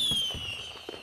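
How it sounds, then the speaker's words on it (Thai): New Year fireworks burst in a few quick, distant pops and thuds over a faint steady tone. "ขอดูพลุก่อน"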